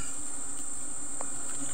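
Wild bees buzzing around a large nest on a rural hillside slope, a steady faint high drone throughout with no voices.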